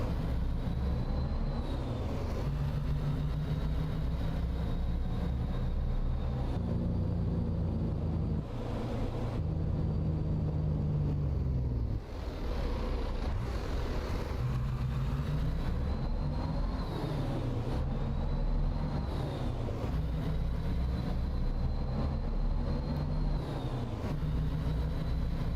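A Peterbilt 387 truck engine idles in American Truck Simulator, a steady low rumble with a faint rattle, as if from loose dash panels. It runs continuously, loud and close, with no voices over it.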